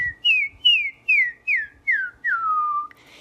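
A person whistles a sequence of six short descending notes in a steady rhythm, the last held longer as it slides down, close and clear with no talking.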